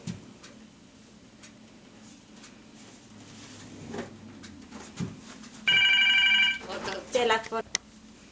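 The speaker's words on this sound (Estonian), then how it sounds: "Telefon." A telephone rings in one sharp electronic burst, loud and close, after soft indoor rustling and faint background talk, followed by handling noises as it is picked up.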